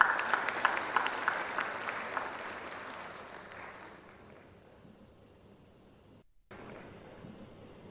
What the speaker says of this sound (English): Please welcome her warmly with a round of applause.